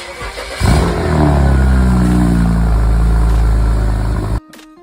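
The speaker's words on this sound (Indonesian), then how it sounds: "Jadi gue buka downpipe-nya jadi tiket, membuat suara itu jauh lebih gahar." A BMW X6 E71 with the N54 engine and an opened downpipe revs hard, its loud, rising exhaust roar building and holding for several seconds close by before cutting off abruptly.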